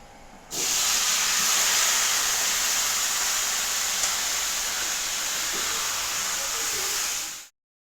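Marinated meat drops into a hot wok (kadai) and bursts into a loud, even sizzle that starts abruptly, holds steady and close for several seconds, then cuts off.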